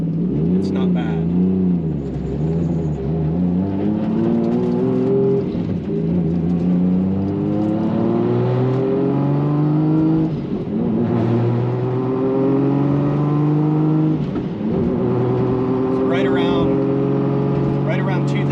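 Inside a Lexus SC300 fitted with a new rear subframe and mounts, the engine drones and revs under load with a boomy cabin resonance around 2,000 RPM; repeated rising and falling engine sweeps are loud and close, with faint rattles.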